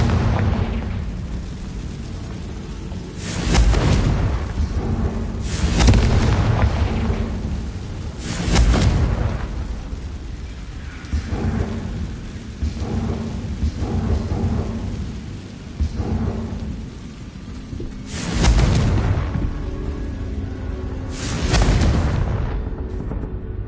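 Spell explosions from Bombarda and Confringo in the video game Hogwarts Legacy: several heavy booming blasts land at irregular intervals. Each one is loud and broad with a rumbling tail, and a low roar continues between them.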